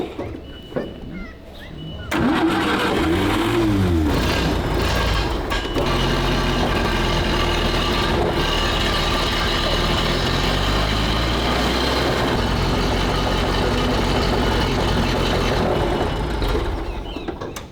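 WWII tank fitted with an Opel 1.5 litre 4-cylinder engine, in need of repair, starting and then idling steadily, a loud, dense, continuous rumble that fills the clip after a brief quieter start.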